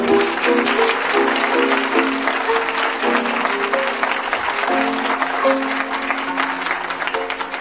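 A live audience claps loudly and steadily for a comedy act introducing the Mean Little Kid character, full applause with a held musical tone sounding underneath.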